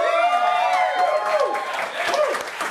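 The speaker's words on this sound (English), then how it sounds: "Round of applause." Studio audience applause and light cheering for a one-year anniversary show, a steady wash of clapping heard close under a host's voice and crowd reactions.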